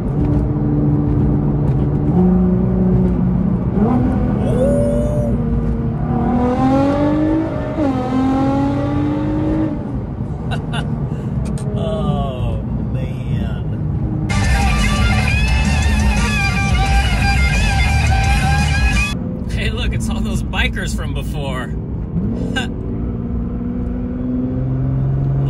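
Nissan GT-R or Infiniti Q60 accelerating hard through a second-gear pull on a night cruise, a loud sustained engine roar climbing steadily in pitch with rising whine, heard from inside the car.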